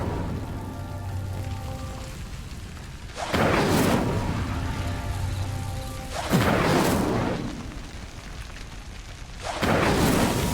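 The Incendio fire spell cast in Hogwarts Legacy: three loud whooshing bursts of flame, evenly spaced about three seconds apart, each swelling and fading over a low continuous background.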